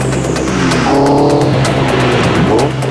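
A hard-driven car piloted by The Stig roars loudly and continuously close by, its tires squealing in rising and falling whines over the engine, with no voices.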